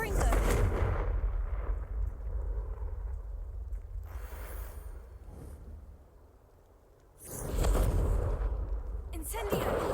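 Confringo spell blasts boom in a wizard video game played on PlayStation, with heavy, roaring bursts at the start and again near the end, separated by a rumbling decay.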